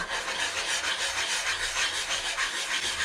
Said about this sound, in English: I'm going to sand and prepare this the same way. So start with the 80.